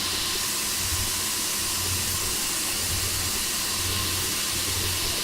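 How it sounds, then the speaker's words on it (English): An inverted bucket steam trap discharging condensate gives a loud, steady hiss with a broad rushing quality, close and continuous, with faint low pulsing beneath and no talk. "You can see the condensate is being discharged over here."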